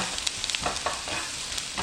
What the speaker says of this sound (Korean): 오징어 볶을 때는 센 불로 볶아줍니다